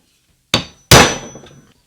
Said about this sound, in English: Hammer and center punch.